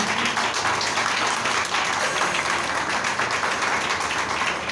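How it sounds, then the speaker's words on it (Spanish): A church congregation claps steadily and continuously during a service, a dense wash of applause filling the space without pause. "Denle un fuerte aplauso al Señor."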